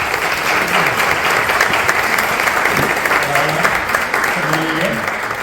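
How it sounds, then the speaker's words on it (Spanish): Audience at a talk on space debris applauding: dense, steady clapping from a crowd for several seconds, with a voice briefly heard over it. "Un aplauso para ti."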